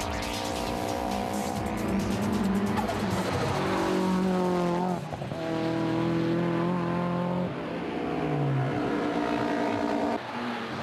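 A Toyota Carina drift car with a swapped 3S-G engine making 320 horsepower, competing at a D1 Grand Prix round, revs hard with steady, near, loud engine drone and long tire squeals through the slides.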